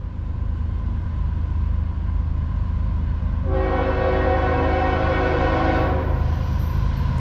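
A CSX freight train sounds its horn in New Jersey, a loud sustained multi-tone blast cutting in halfway over the rumbling roar of the passing train and holding steady to the end.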